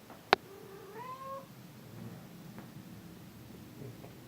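A pet cat gives a single short, fairly faint meow in a quiet indoor room, with a sharp click just before it and low background hiss.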